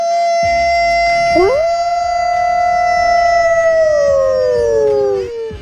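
Wolf howl sound effect played on a sports radio broadcast after a basketball run, a loud sustained howl with a rising swoop that holds, then slowly falls and fades, heard alone.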